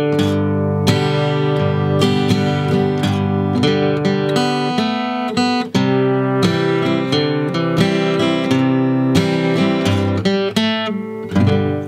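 Acoustic guitar strums and picks through a line of a song with full ringing chords and steady rhythm, loud and close, with no voices.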